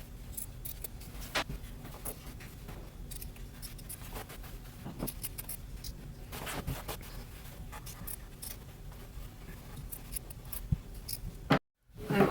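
Scissors cut along a marked line through cotton men's button-up shirt fabric, giving a steady run of close crisp snips and rustles that carry on alone for about twelve seconds before a brief drop to silence.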